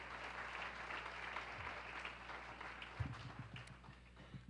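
Conference audience applauding in a hall, sustained clapping at moderate distance with a few faint voice murmurs underneath.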